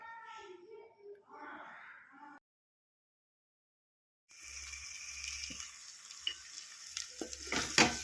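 Eggs cracked into a hot pan for a tamarind-leaf egg curry begin to sizzle and crackle steadily at close range, following a stretch of voice and a brief silence.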